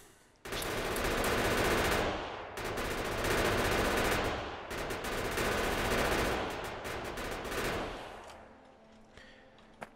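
Video game gun turrets in Factorio fire sustained, rapid automatic bursts that run nearly continuously for several seconds, dense and loud, then taper off into quieter scattered shots near the end.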